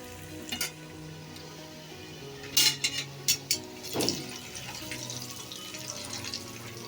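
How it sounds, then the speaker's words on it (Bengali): Cauliflower pakoras fry in hot oil on a gas stove, a steady hiss broken by a few sharp clinks and scrapes of utensils against the pan. "পাকুড়াগুলো ভাজা হয়ে গেল ফুলকপির"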